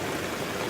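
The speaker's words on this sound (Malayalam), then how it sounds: "കാറ്റുണ്ട്, മഴയുണ്ട്, നല്ല മഴയാണ്" Heavy rain falls steadily with strong wind during a flood-threatened downpour in Iritty, Kerala, a brief dense hiss with no voices.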